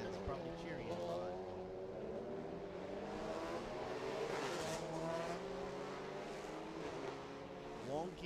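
Race cars on a circuit during a practice run, engines droning and shifting pitch as they pass, fairly faint and steady, with a commentator talking over them.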